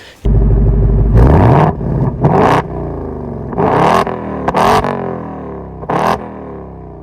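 Loud 2024 Ford Mustang Dark Horse quad-tipped valved exhaust revving hard in several bursts, a deep rumbling blip and roar rising and falling, close up with pauses between revs.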